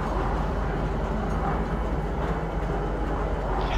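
A train rumbling steadily alongside in the video game Steel Coffin, a continuous low rolling drone without voices.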